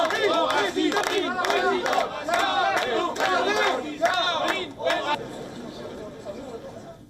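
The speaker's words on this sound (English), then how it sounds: "she was welcomed with cheers and applause." A crowd at Marine Le Pen's campaign rally in Vernon, northern France, cheers, shouts and applauds loudly and continuously, a dense roar of voices that thins out over the last couple of seconds.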